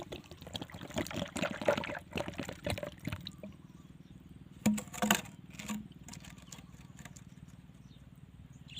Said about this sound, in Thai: เทน้ำลงไป